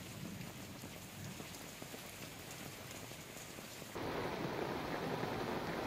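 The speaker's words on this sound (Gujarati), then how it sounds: "ધારી, ગીરકાંઠાના ગ્રામ્ય વિસ્તારમાં પણ ધોધમાર વરસાદ પડ્યો." Heavy rain pours down in a rural area of Gujarat, a steady hiss of drops hitting surfaces that grows louder and denser partway through, with no voices.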